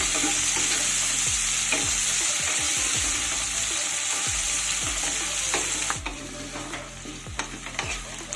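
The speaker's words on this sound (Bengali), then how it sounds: "এবার আমি দিয়ে দেব একটা কুচনো পেঁয়াজ পেঁয়াজটাকে কিছুক্ষণ ভেজে নিতে হবে" Chopped onion frying in a pan for a fish-head and Gobindobhog rice murighonto, a loud steady hiss of oil with intermittent spatula scrapes and stirs close by, no talking.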